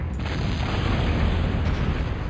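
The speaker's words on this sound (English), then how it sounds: "more tactical nukes coming down" A tactical nuke detonates in a 4v4 strategy video game match, a loud, sustained, rumbling blast that fills the whole stretch with dense low roar and no break.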